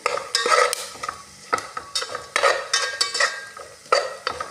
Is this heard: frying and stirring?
yes